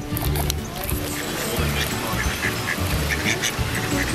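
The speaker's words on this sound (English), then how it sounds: "Look at those ducks." Ducks quack repeatedly in short, scattered bursts at a zoo, heard over a busy background of people talking and general crowd noise.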